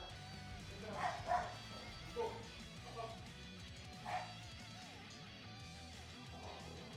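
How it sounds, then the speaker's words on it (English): A dog barks a few times in the background at a distance, short yips spaced over the first seconds, against a steady low hum from a game being played. "Where's my dog barking so loud?"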